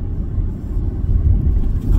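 Low, steady rumble inside a car moving down the road, a close and constant drone that swells slightly toward the end, with no talking.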